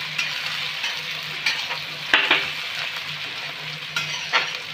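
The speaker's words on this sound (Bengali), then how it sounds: "পেঁয়াজটা দিয়ে দিলাম। পেঁয়াজটা আমরা এবারে ভেজে নেব।" Three medium onions, finely chopped, fry in mustard oil for a chicken dish with a close, steady sizzle broken by periodic stirring scrapes and clinks, no speech over it.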